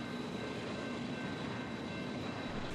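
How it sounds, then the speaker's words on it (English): A BNSF freight train hauling Vestas wind turbine components rumbles past with a constant, even roar and a faint high whine, heard alone at moderate distance. "This specialized train is designed to transport critical wind turbine components for Vestas"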